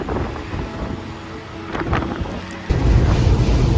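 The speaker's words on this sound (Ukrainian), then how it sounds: "вітер воду ганяє по цьому, дощ по асфальту, якими поривами" Gusty wind buffeting the microphone beside a truck, with wind-driven rain washing over asphalt, a loud rumbling roar that surges stronger toward the end.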